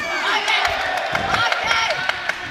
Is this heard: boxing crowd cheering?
yes